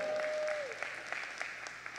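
A church congregation applauds the Lord in a loose, steady patter that runs for two seconds at moderate volume, with a faint tone fading out near the start.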